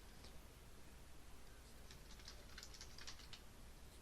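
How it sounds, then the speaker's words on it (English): Typing on a computer keyboard while entering a light crossbow into a Roll20 D&D 5E character sheet, a quick patter of soft key clicks clustered toward the end, close and alone over a steady faint background hiss. "I'm going to simply type light crossbow in the compendium"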